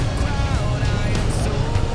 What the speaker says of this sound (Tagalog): Ito, ang daming sasakyan.